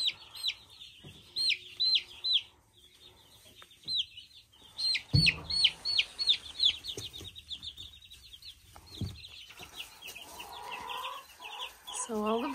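Young, growing chicks beginning to get their feathers: repeated high chirping and soft clucking in quick bursts, close by, with brief handling noises between calls.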